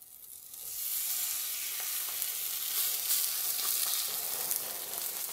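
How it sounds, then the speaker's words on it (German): Unsalted steak sizzling hard in a hot frying pan, a loud, steady crackling hiss that jumps up suddenly and keeps spitting, with no one talking. "Wir machen kein Salz drauf, gar nichts, sondern hauen es direkt in die Pfanne."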